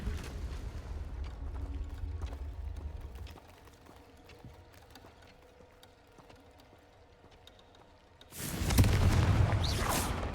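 A Confringo blasting spell explodes in a video game, preceded by a low rumbling stretch and quiet clicks, then a sudden loud, broad burst near the end that stays strong and dense.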